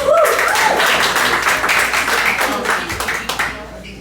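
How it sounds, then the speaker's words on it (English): An audience at a data science tech event applauds ahead of a 90-second pitch, a steady wash of clapping that fades toward the end, with voices mixed in. "please give her a round of applause for a 90-second pitch"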